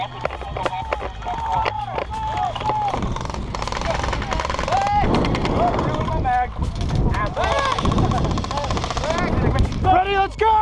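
Airsoft gunfire from a PolarStar light machine gun during a field game, with loud, rapid bursts of shots mixed with shouting players and running movement close by.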